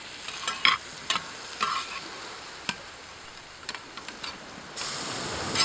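A spatula scrapes and stirs food in a pan at a camp stove during solo camping in Alaska, with a run of short scraping strokes over a soft sizzle, close and clear, then a steady hiss near the end.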